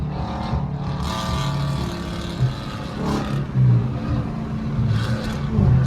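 A white Dodge Charger Scat Pack with the 392 engine revs loudly nearby in repeated deep, rumbling surges over a continuous rough idle.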